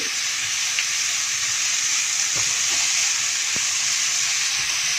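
Onion and tomato masala with salt, sugar and kasuri methi sautéing in a pan over a low flame, a constant bright sizzle and hiss with a few faint stirring taps, and no talk.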